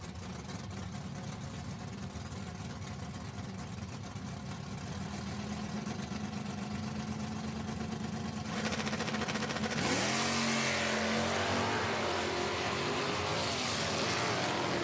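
A 1988 Mustang and another drag race car idle with a low, burbling hum. Partway through, the engines erupt into a loud, harsh roar as they launch, and the roar stays strong to the end.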